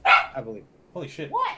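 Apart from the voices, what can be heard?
dog barking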